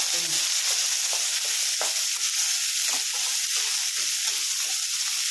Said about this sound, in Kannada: ಜೀರಿಗೆ ಒಂಚೂರು ಹಾಕಿದ್ರೆ ಟೇಸ್ಟ್ ಚೆನ್ನಾಗಿರುತ್ತೆ ಇದೆಲ್ಲ ಕೆಂಪು ಫ್ರೈ ಮಾಡ್ಕೊಬೇಕು